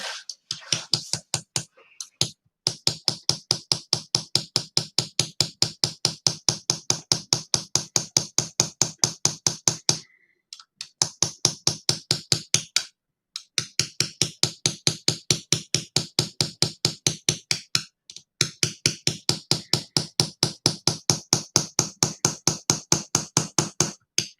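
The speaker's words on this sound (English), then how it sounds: "I won't blow your ears out when I start chiseling" A hammer strikes a chisel while carving horimono, a traditional Japanese blade engraving, in long runs of rapid, evenly spaced sharp taps. The taps are close and crisp and are broken by a few short pauses.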